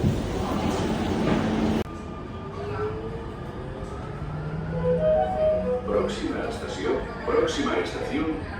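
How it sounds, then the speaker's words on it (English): Rumble and hum of a metro train carrying riders into the city from the airport, steady and close, with brief rising tonal whines from the motors, a louder burst at the start, and people talking softly over the ride. "let's get the train to the city."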